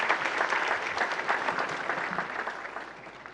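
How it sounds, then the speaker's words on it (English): Applause from the audience at a UNICEF community celebration event, steady, even clapping from many hands across the whole stretch, moderately loud and tapering slightly near the end. "Please, let's give him a round of applause."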